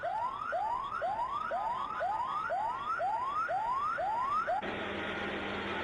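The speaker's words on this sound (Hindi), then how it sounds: "ये देखिए एम्बुलेंसेस जो हैं" Ambulance sirens at a plane crash site in Karachi, a repeated rising wail cycling about twice per second, fairly loud and steady with no talk, ending in broadband noise.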